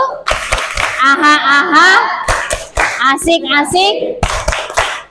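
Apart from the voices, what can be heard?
children doing a rhythmic spirit clap in class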